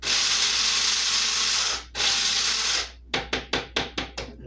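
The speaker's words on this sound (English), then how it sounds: "I just keep grinding until I don't hear much grinding anymore" A hand grinder runs until the contents are coarsely ground, two sustained close gritty grinding passes followed by a quick series of short rhythmic rasping strokes that fade down.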